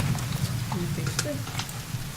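Steady rain falls in the survival video game The Forest, a continuous patter and hiss heard under intermittent male speech.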